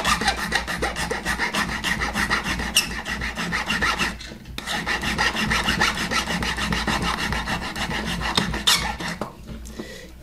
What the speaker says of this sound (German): Das muss gerade gefeilt werden.